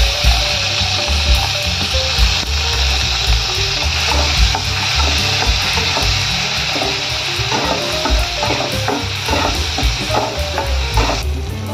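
Chopped onion sizzles loudly in hot oil with dried red chillies and bay leaves, a continuous dense crackle with scattered pops and stirring scrapes throughout, no voices.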